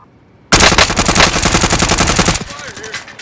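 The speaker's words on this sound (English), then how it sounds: "I'm under fire." Sudden loud automatic gunfire in Call of Duty Warzone resurgence, a rapid rattling burst of about two seconds that cuts off abruptly, with faint game ambience before and after.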